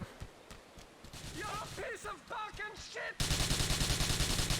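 Gunfire in Grand Theft Auto IV during a police chase bursts in as a rapid, loud volley of shots near the end, with someone talking over the game sounds beforehand.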